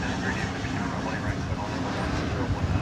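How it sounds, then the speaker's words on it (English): An American Airlines Boeing 777-200ER jet bound for London Heathrow takes off at DFW Airport, producing a loud, steady, broadband roar that holds evenly for the whole stretch without a break. "This would be American Flight 20 to London Heathrow. It's a 37-200 ER."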